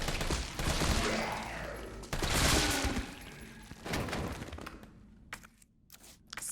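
Rapid gunfire and impacts in Resident Evil 3 Remake, loud dense bursts filling the first half, then fading to scattered sharp shots and thuds.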